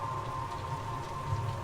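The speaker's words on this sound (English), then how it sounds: "Rain." Steady rain in a video game, a dense continuous patter of drops with low rumbling underneath, even and unbroken for the whole short stretch.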